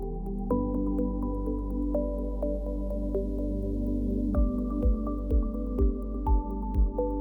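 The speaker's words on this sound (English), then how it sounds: "Add a splash more water and mix again." Rehydrated terrarium soil is mixed with a splash of water, giving soft wet squelches in a steady rhythm toward the end, close by and partly under gentle background music.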